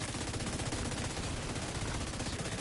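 Enemy turret in Division 2 firing a steady, dense stream of rapid automatic shots, loud and continuous throughout.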